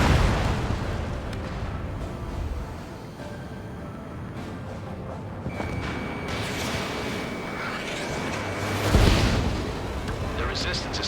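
Booming explosions and rumbling blasts from an Ace Combat 7 aerial combat game fill the scene, with a dense, continuous roar, a sharp burst near the end, and some talk over the top.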